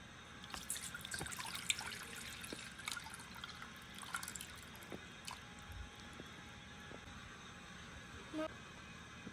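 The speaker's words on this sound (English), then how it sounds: "I'm gonna pour it in this little pot." Spicy soup from a bag pours and drips into a small pot in a home kitchen, heard as faint, irregular splashes and trickles with soft clinks. There is no clear talk over it.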